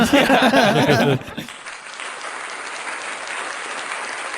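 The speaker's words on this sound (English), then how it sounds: "Applause." A burst of cheering and clapping from a crowd fades abruptly after about a second, leaving a faint, soft patter of applause trailing off.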